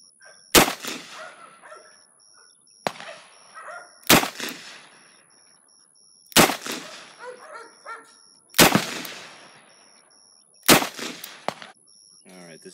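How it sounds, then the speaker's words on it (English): A Smith & Wesson Model 69 .44 Magnum L-frame snub revolver with a 2.75-inch barrel fires .44 Special rounds at an outdoor range: five loud, sharp shots about two seconds apart, each followed by a ringing echo and decay. "shooting some 44 special through this Model 69"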